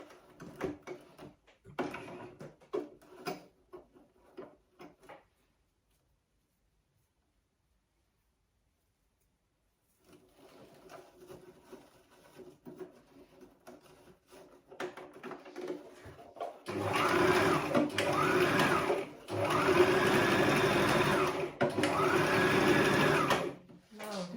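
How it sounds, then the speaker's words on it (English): A sewing machine stitches tulle mesh fabric for a ready-to-wear turban, running in loud sustained bursts near the end after quieter handling noises, a silent gap and some talking. "Then you stitch it down just the way you stitch the first one down."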